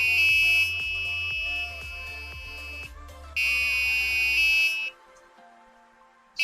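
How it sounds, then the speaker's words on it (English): The buzzer of an ultrasonic reverse parking sensor sounds close by, a shrill electronic tone held steadily, then breaking off and returning in a second long burst before cutting out, with faint low ticking underneath. "as you can see the difference in the sound that the buzzer is making"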